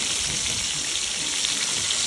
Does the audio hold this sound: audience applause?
no